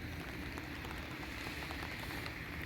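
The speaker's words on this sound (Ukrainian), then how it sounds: "Дощик іде." Steady rain patters on a hard surface in Schaffhausen, a dense, even hiss of drops continuing throughout with no voices.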